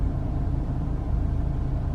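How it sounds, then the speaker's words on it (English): A car engine idles in an open garage while warming up, a low, steady rumble with an even throb throughout and no talk. "we are just waiting for the car to warm up"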